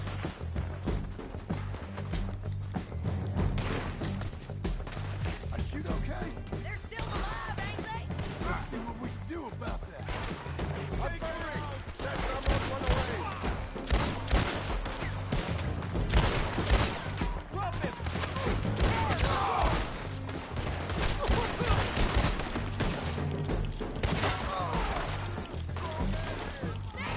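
Gunfire in the video game Red Dead Redemption 2, steady bursts of shots and crashing impacts running through the whole stretch over a dense game soundscape, with voices talking over parts of it.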